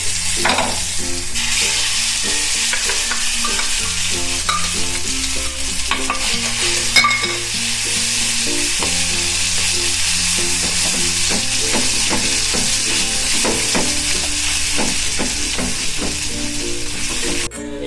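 Steady, loud sizzling of garlic chutney frying in hot oil, with occasional stirring and scraping sounds throughout; no talking, and a low hum underneath.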